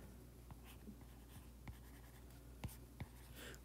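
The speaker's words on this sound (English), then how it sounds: "Let me write that again." Pen or marker strokes on a board or paper while working a physics problem on angular momentum, with a few sharp taps and scratches spread over a quiet background, no talking.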